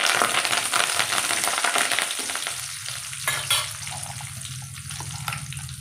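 Salted dried chillies and curry leaves fry in a pan of hot oil for a cucumber chutney, giving a steady near sizzle with stirring scrapes and a brief louder crackle partway through.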